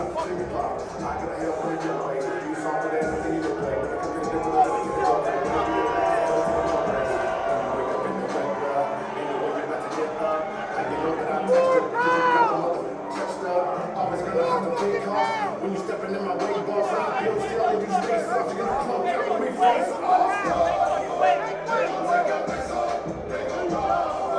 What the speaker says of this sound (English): The crowd getting a little bit amped up here.